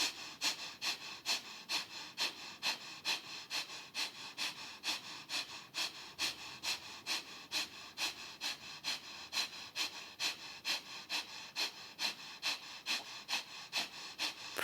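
Rapid, rhythmic breath of fire during a yoga session, sharp forceful exhales in a fast steady pulse of about two per second, close and continuous.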